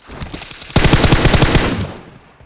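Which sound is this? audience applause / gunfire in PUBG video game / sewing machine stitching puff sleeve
gunfire in PUBG video game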